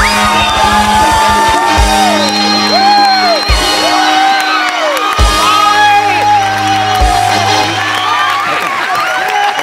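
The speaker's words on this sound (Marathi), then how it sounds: "एकदा जोरदार टाळ्या" A studio audience at an Employee of the Year award announcement on a Marathi comedy show claps and cheers loudly and continuously, with whoops and shouts rising over the applause and raised voices heard throughout.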